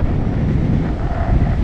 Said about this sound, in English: maybe it's too windy